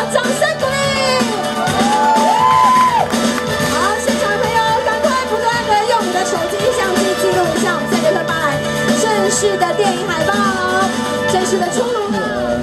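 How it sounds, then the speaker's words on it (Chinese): A film premiere crowd applauds and cheers for a movie poster reveal, loud and sustained clapping mixed with whoops and shouts throughout, with a voice speaking over the din. "掌声鼓励"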